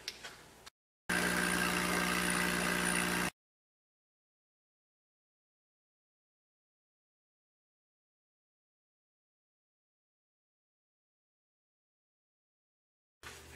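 A power sander runs briefly on a magnolia wood bowl, giving one steady motor hum of about two seconds between stretches of silence.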